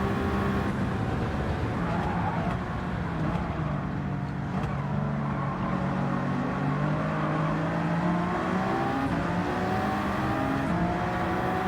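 McLaren and Ford GT race cars in Gran Turismo 7 at the Daytona endurance race, engines droning and revving continuously with shifting pitch as the pack runs close together, loud and unbroken.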